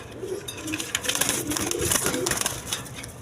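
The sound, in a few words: pigeons cooing on a pigeon farm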